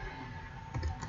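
Typing a command on a computer keyboard, soft rapid key clicks close by, faint and continuous for about a second with no voice.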